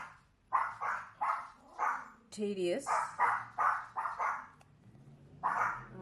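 Several dogs bark in a steady run of sharp, loud barks with a brief whine in the middle, while a person speaks briefly between them.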